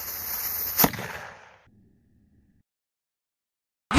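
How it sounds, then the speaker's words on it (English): Cannon blast played as a sound effect on a Tampa Bay Buccaneers podcast: a single sharp boom with a crackling tail that fades over about a second, then silence. "Troy, fire that cannon."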